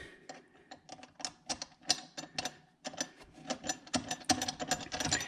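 Ratchet clicking as a bolt is tightened back in on a Holley intake manifold, a brisk run of sharp close metallic clicks in quick irregular bursts, with no talk.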